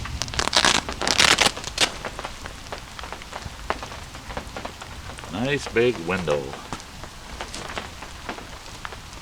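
Steady patter of rain drums on a taut tent screen house, with heavier bursts of drops early on; a voice speaks briefly over it.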